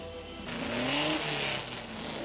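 Vintage Bentley race cars on a lap of honour roar past at the Grand Prix de l'Age d'Or 1990, a loud, rough engine drone that swells and fades as the cars go by.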